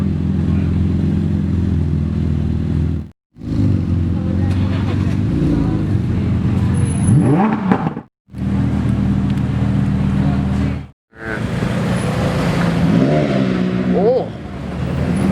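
Loud, raspy straight-piped Lamborghini Murciélago LP640 exhaust roaring and revving in several bursts separated by brief cuts, with voices talking over it.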